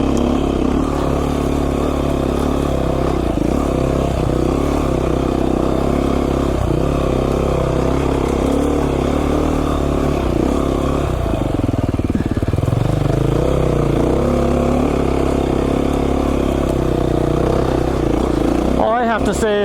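A Beta 500 RR-S dual-sport motorcycle climbing a tight mountain singletrack trail: a loud, steady engine drone with shifting revs and some clatter throughout, and a rider talking over it.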